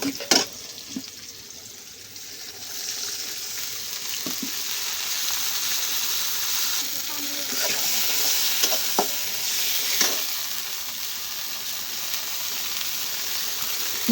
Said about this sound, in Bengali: আমার পেঁয়াজটা ভালো করে ভাজা হয়ে গেছে, এখন একটু পানি দিয়ে দেবো।